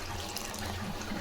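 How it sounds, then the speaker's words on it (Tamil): Water pours steadily into a pot of boiling rasam, a continuous splashing rush with no pauses or voices. "கொஞ்சமாக தண்ணி ஊற்றிக்கலாம்."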